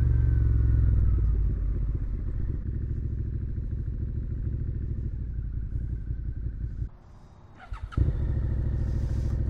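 A 2017 Suzuki SV650 motorcycle rides with a steady, loud engine drone and rhythmic throttle pulses, briefly dropping away near the end before the engine roars back with clattering.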